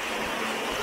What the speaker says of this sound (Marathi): पाऊस जबरदस्त झालेला आहे. तुफान पाऊस.